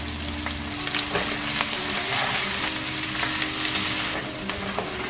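Curry leaves sauté in hot oil with a constant close, loud crackling sizzle, dotted with sharp pops and light stirring scrapes, and no voices.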